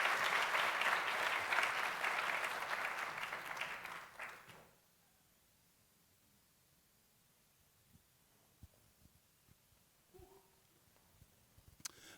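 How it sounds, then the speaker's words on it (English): Loud applause from a crowd fills the first four seconds, then fades out into near silence with a few faint scattered knocks. "Round of applause, Feta"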